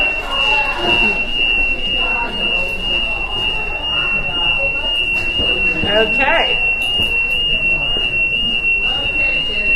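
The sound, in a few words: building alarm going off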